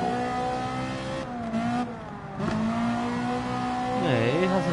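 A Lamborghini in Gran Turismo Sport snarls with a steady, loud engine drone that dips and climbs in pitch through gear changes, ending with a quick rising rev.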